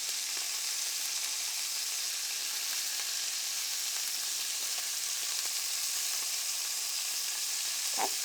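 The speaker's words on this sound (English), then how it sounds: "That's going to help to sear in the moisture and the flavor." Meat searing in a frying pan, a constant, even hiss of sizzling fat heard close, with a faint clink near the end and no voices.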